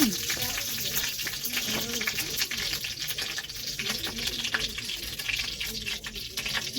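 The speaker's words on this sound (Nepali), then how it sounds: "2 चम्चा घिउ राखिसकेपछि अब मैले यसलाई मजाले डढ्न दिन्छु।" Two spoons of ghee heat in a pan with a steady, continuous sizzle and frying crackle, fairly close and moderately loud, with no talk over it.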